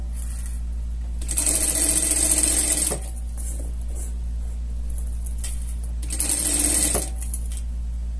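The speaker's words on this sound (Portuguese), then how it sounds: "Cetim não é fácil de costurar, como todos já sabem" A home sewing machine stitches satin for a scout costume in two quick runs of rapid mechanical whirring, one about a second and a half and one shorter, separated by a quiet pause.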